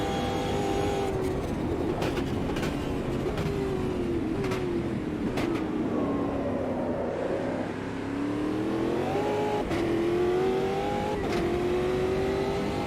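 Formula Ultimate 2022 race car engine in Automobilista 2, revving steadily with rising and falling pitch through gear changes and corners, a loud, continuous onboard drone with no talk.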